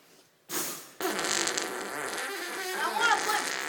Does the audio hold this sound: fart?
yes